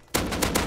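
Rapid gunfire from a pump-action shotgun in the survival game Rust, several loud close-up blasts in quick succession with no talking.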